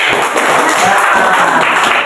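Students in a classroom clap together in a brief, dense burst of applause that fills the room at close range.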